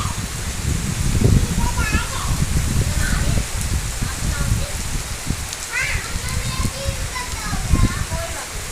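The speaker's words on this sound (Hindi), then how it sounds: "बारिश भी हो रही है," Steady rain and gusting wind sweep a village outside a house, a dense close hiss with rustling bursts, while voices and a few high chirps come through faintly underneath.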